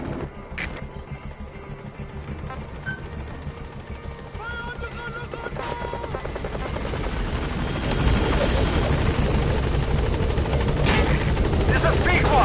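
The B-Quad support helicopter in Metal Gear Solid V approaches a landing zone, a rotor drone building steadily louder as it nears, with faint radio-style chatter and tones early on.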